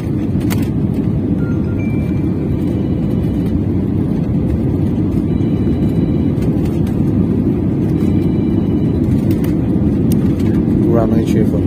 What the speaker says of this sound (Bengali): রানওয়ে ছেড়ে ফেলল দ্য ফ্লাইট